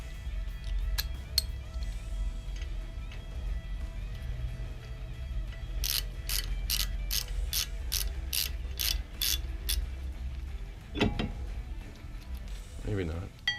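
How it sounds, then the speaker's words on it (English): Ratchet clicking on a bolt during brake rotor replacement on a Camaro, a quick regular run of about ten sharp clicks in the middle, over low shop rumble with a few clinks of tools. "I should have grabbed my ratchet."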